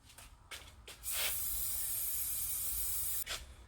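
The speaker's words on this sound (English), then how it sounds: "That's Ronson multi-lube." Ronson Multi-Lube aerosol lubricant from an old can sprays in short hissing bursts, then in one long steady loud hiss of about two seconds, followed by another brief spurt.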